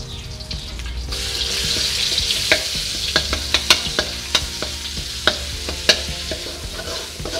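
Coriander root, garlic and pepper are stir-fried on low heat in a pan. A soft, steady sizzle runs underneath while a spatula scrapes and taps the pan in a quick, fairly regular series of sharp clicks.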